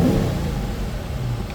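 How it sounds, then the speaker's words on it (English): Engine of a 2014 Dodge Charger Pursuit police car revs loud and close, a deep surging roar that eases slightly into a steady hum. "The motor sounds really good."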